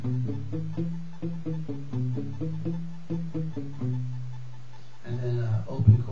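Palm-muted acoustic guitar playing the opening signature lick of a worship song, a run of short, damped plucked notes in steady rhythm, close and moderately loud, ending on a few sustained notes and a strummed open chord.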